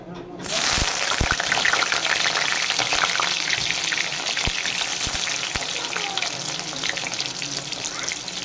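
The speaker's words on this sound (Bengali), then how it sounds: "ঝিঙেটা বাকি আছে, ঝিঙেটাও ভেজে নেবো" Ridge gourd pieces fry in hot oil with a steady, dense sizzle that starts abruptly and holds close and loud, broken by a few sharp clicks of a utensil against the pan.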